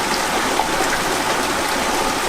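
Water pouring and splashing through a leaky canal lock, a steady broadband rushing gush that stays loud and continuous throughout with no voices.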